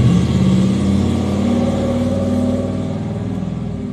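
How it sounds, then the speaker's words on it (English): A car engine revs with a buzzy, rattling note like a dirt bike, loud and close, holding a steady pitch that eases slightly toward the end. "you hear a car that sounds like a dirt bike"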